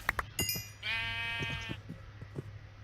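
Sheep bleating in the Minecraft video game, one drawn-out wavering bleat after a few short clicks and taps, fairly close and clear with no talking.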